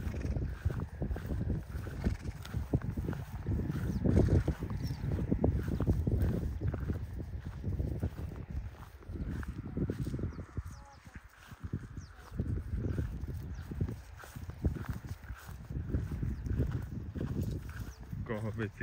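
Horses offered for sale walk about, their hooves clip-clopping in an uneven patter close by while people talk over them almost throughout.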